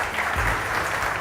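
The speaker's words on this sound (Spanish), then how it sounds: "Yo les quiero pedir primero que les demos un fuerte aplauso a los diputados" Applause from an audience at a municipal gathering in San Miguel, greeting the deputies: a short, steady burst of dense clapping with no voices over it.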